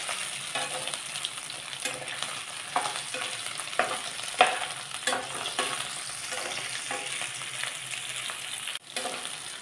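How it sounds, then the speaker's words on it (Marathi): Boiled potato pieces fry in oil in a pan, with a steady close sizzle and occasional scrapes of stirring, no talk. "हा उकडलेला बटाटा आहे, तो थोडा तेलात परतूया।"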